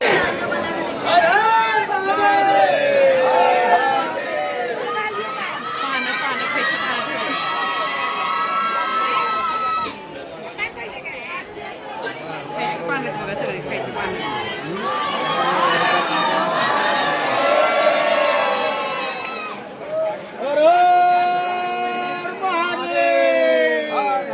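Dense crowd of devotees at Trimbakeshwar temple in Nashik, a continuous loud babble of many voices with shouts and calls rising and falling, close and enveloping.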